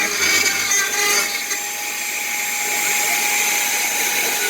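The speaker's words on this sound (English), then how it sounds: "I got a 1/8 inch end mill running on the profile" A CNC router spindle with a 1/8 inch end mill cuts a profile for a spindle piece: a steady, high whining hum with a harsh, constant edge, close and continuous throughout, no speech.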